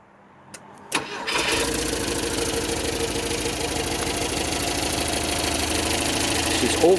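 A 1971 Volvo P1800 E 2.0 coupe engine cranks after a couple of clicks, catches and settles into a steady, close, even-running idle that continues throughout.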